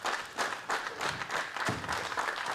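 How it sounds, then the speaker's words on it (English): Enthusiastic applause from the crowd at a televised pro bowling tour match, a dense steady patter of many hands clapping throughout, moderately loud and fairly close, with no talk over it. "here's the enthusiastic clapping by the crowd"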